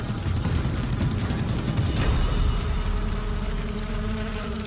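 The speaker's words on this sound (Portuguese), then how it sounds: "Grupos de abelhas atacam a vespa e bloqueiam os orifícios de respiração em seu abdômen." A dense swarm of honeybees mobbing a hornet produces a loud, continuous buzzing drone, close and sustained, with shifting wingbeat tones layered throughout.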